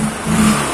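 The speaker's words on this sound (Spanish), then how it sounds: "tú aceleras y escuchas el motor como ahogado" Bajaj Discover 110 four-stroke motorcycle engine revving with a choked, smothered tone: a loud, close, steady mid-pitched drone for under a second, no voices.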